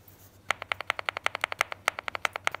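Clicky keystrokes on LeoBog mechanical keyboard switches fitted with new keycaps, about twenty sharp taps in a steady, fairly quick rhythm, close and clear over a faint low hum, with no talking.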